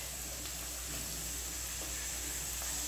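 Onions and spices frying in coconut oil in a kadai for goat intestine curry give a constant, close hissing sizzle with faint stirring scrapes, and no voices are heard.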